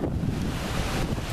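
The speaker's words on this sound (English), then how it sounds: "It's windy." Wind gusting at a Florida beach near St. Augustine, roaring steadily and loudly against the microphone with a surf-like broadband rush and no voices.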